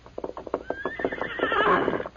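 A horse whinnies in a long rising and falling neigh over steady clip-clop of hooves, close and clear, a radio drama sound effect from a Lone Ranger western with no talking.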